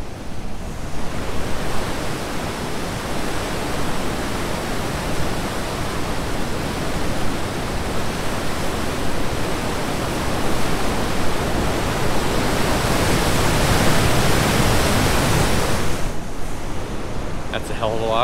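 A Yellowstone waterfall roars in a dense, steady rush of heavy water, loud and unbroken throughout, close enough to fill the whole sound.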